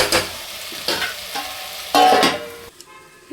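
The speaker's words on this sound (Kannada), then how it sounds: "ಸೊ ಇವಾಗ ತರಕಾರಿ ಒಂದು ಸ್ವಲ್ಪ ಫ್ರೈ ಆಗಲಿ." Vegetables for pulao fry in a pan, with a sizzle broken by several bursts of stirring and scraping, loud and close, ending in a quieter stretch.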